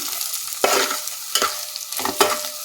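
Boiled taro root pieces fry in a pan as a spatula turns them, making three distinct scraping, stirring strokes over a soft background sizzle.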